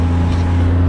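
A Honda Goldwing 1500 motorcycle engine drones in a steady, loud, low hum during a ride, a brief continuous rumble with no speech.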